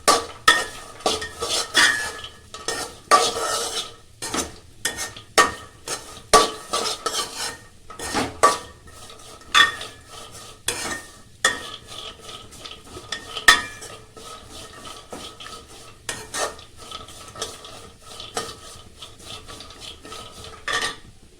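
A utensil keeps scraping and stirring peanuts and bread pieces frying in oil in a pan, in quick, irregular strokes close up. Faint sizzling runs underneath throughout, with no voices.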